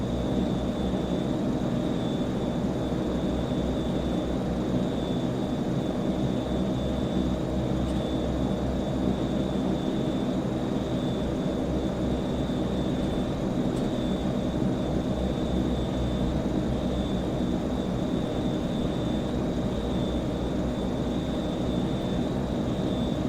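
Single-engine propeller aircraft in a flight simulator game taxiing onto the runway, a constant steady engine drone with a thin whine on top, loud and unbroken throughout, no talking.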